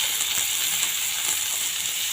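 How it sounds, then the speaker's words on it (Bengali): Taro, eggplant, tomato and onion fry steadily in a hot pan, a constant bright hiss and crackle with occasional small pops, close and unbroken. "ততক্ষণ এটা ভেজে নিই।"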